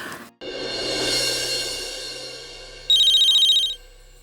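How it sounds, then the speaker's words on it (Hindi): A phone rings close and loud after a low whooshing swell, the bright electronic ring trilling for under a second before cutting off, with no voices. "लेकिन पहले मुझे अमन सर को फोन करना है"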